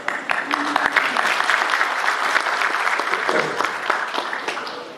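An audience at a diaspora forum in Tunisia breaks into steady, dense clapping that fills the room, with a few voices murmuring underneath as the applause fades slightly toward the end.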